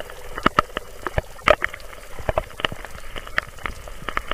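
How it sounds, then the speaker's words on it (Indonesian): Rain falls on a mountain hiking trail on Gunung Salak via Cimelati, heard as scattered sharp drops and taps over a soft wet background, close and uneven. "Hujan semakin deras, jalur pendakian mulai dilewati aliran air sedikit demi sedikit dengan genangan di sana-sini."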